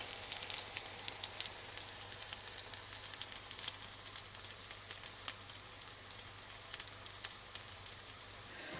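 Vegan chickpea burgers fry in a pan with a quiet, steady sizzle of crackling oil pops and fine hissing, continuous and close with no voices.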